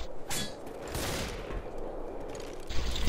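Bursts of gunfire in the zombie shooter Left 4 Dead on the Turnpike map, several loud cracking shots in quick succession over a noisy, busy background of game ambience.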